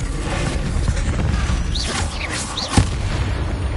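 Confringo explosive spell cast in Hogwarts Legacy, a whooshing, swirling magic burst followed by a sharp booming impact, set against a continuous loud rumble of battle noise.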